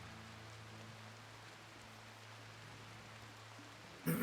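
Steady soft rain falls in the colony game Rimworld, a quiet even hiss with a low hum underneath, ending in a brief louder burst at the very end.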